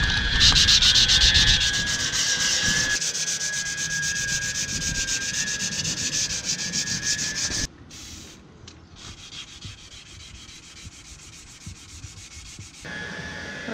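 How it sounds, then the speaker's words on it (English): Wet and dry paper rubs old bottom paint off a Hallberg-Rassy 54 sailboat hull in a boatyard, a continuous rasping scrub that softens and turns patchier partway through, with no voices. "So I'm just going to get the last few bits of this bottom paint off with wet and dry."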